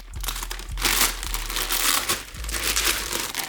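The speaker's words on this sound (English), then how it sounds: "Let's cut through the foil like this." Foil packaging around a pair of Golden Goose shoes being torn and unwrapped during an unboxing, a close, loud, continuous crinkling and crumpling with a few sharper rustles, and no talk.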